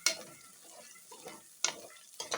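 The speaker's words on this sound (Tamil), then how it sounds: "கிளறி விட்டு பார்த்து செய்யுங்க இந்த மாதிரி நல்லா கொஞ்சம் பார்த்து ஃப்ரை பண்ணுங்க" Masala for mutton biryani being stirred and fried in a pot, with soft scraping strokes and a low sizzle, plus a few sharp utensil scrapes near the end, close and fairly quiet.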